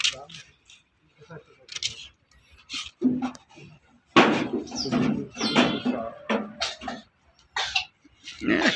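Short, harsh coughs from a goat with a cold come in irregular bursts, some sharp and loud, amid a noisy background with voices nearby at a goat market.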